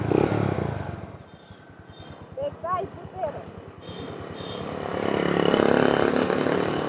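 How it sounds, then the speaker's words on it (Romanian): A motorcycle engine idles with a low, rapid throbbing pulse, then swells louder near the end, while people talk close by over the running engine. "Ia uzi cum face motorul meu."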